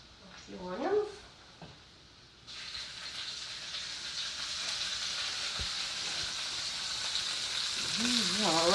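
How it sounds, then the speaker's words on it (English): Garlic and onions sizzle in a hot pan with a steady, loud hiss that builds over time, after a brief spoken stretch at the start; talk returns near the end over the frying. "So I'm gonna put a little bit of garlic here."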